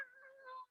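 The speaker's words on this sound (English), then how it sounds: "That's meowing at me in the background." A Siamese-type cat gives a single drawn-out, raspy meow in the background, faint and distant, cut off by a short noise at the end.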